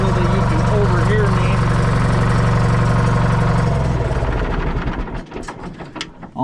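A John Deere 440 with a Detroit 2-53 two-stroke diesel engine runs loud and close with a steady rattling drone, then shuts down and winds to a stop in the last seconds.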